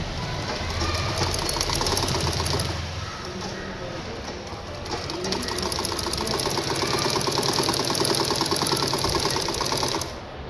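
A sewing machine stitches the shoulder seam of a chudidar, with rapid mechanical clatter running close and steady, briefly easing in the middle before resuming.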